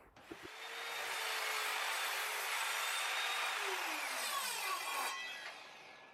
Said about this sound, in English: set the angle of the mitre saw to match these and simply cut